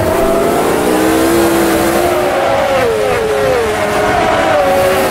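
A 1971-era race car downshifting on the Nordschleife in the racing game Automobilista, a loud continuous engine roar whose pitch sweeps and drops through the gear change, steady and close throughout.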